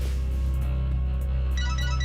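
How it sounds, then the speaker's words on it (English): A telephone in a horror TV episode starts ringing with a bright, repeating electronic trill partway through, over a steady low humming background with no speech. "phone rings this time"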